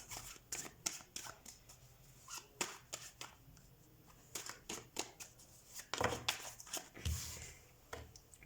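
Tarot cards are shuffled by hand in quick, irregular riffles and slaps, close and fairly soft, with brief pauses between bursts.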